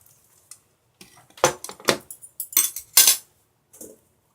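A knife cutting through Cheongsol kimchi on a board, a series of close, sharp clacks and taps in uneven rhythm amid near silence, with no talking.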